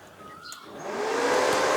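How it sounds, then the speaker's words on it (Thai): A desktop computer power supply, being checked for a fault, starts its fan after its test button is pressed. A breathy whoosh swells quickly and settles into a steady, close, loud airy rush with no talk. "กดแล้วไฟติดพัดลมทำงาน"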